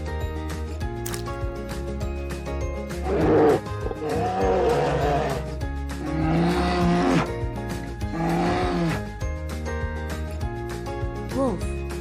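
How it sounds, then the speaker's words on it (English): A bear growls and groans in low, rough bursts, three drawn-out rumbling calls spaced a couple of seconds apart, loud and close over a steady background drone. "Bear."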